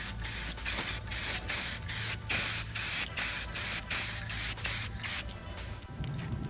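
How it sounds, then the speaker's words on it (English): Rustoleum High Performance Enamel spray paint hisses from an aerosol can in about a dozen short, even bursts close up, followed by a faint lingering hiss. "I'm going to use Rustoleum High Performance Enamel. I'm going to start spraying this."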